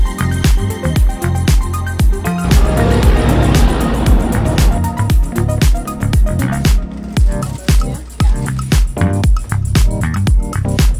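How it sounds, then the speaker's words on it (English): Cars pass one after another along a highway in Baja California, heard from the roadside while walking; a steady, loud rush of traffic with repeated whooshes, one vehicle swelling nearer in the middle. "And there's cars passing"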